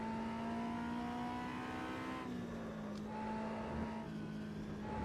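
Race car at full throttle on the Oschersleben circuit in the racing game Automobilista, a sustained engine drone holding a steady pitch with a brief dip and recovery midway, continuous and fairly quiet.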